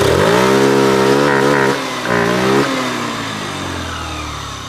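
Yamaha Zuma 50F scooter with a 76cc big bore kit and pod filter, its small engine revving up and down in close, loud, buzzing bursts before settling back toward idle.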